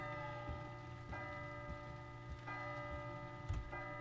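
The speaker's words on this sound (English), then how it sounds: "wait until you hear the bell chimes" Bell chimes in the horror game P.T. Unreal remake, several faint resonant strikes about a second apart, each ringing out over a low steady hum.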